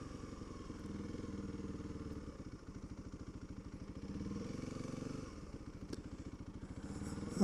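A Honda CRF300L motorcycle with an improved ECU on 87 octane fuel rides slowly through a parking lot, its single-cylinder engine thumping in a steady pulse with gentle rises and falls in throttle, quiet and close.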